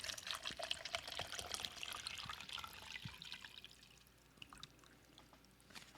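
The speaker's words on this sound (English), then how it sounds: "That crispy water pour." Water is poured from a plastic bottle, a soft splashing trickle with small crackles and drips that eases off toward the end, faint and close by.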